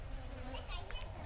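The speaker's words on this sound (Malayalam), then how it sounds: "തേനീച്ചകളുണ്ടല്ലോ, ഇഷ്ടംപോലെ തേനീച്ചകളുണ്ട്." Bees hum softly among the plants of a dragon fruit farm, a faint, continuous outdoor buzz with a low murmur of background noise.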